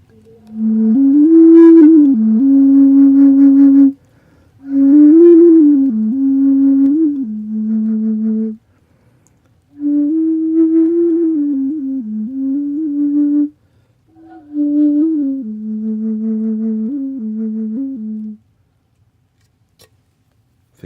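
A repaired, previously cracked Tibetan singing bowl is played in four separate phrases, each a steady, ringing tone with wavering pitch and slight buzzy overtones, separated by brief silences.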